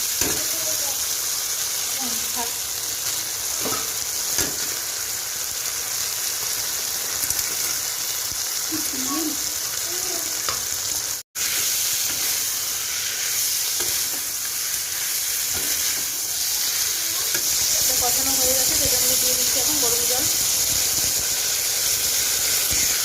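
Crabs are sautéed in a spicy masala in a pan, giving a loud continuous sizzle and frying hiss with scraping stirs, a short break midway and faint voices in the background.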